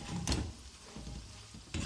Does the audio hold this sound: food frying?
yes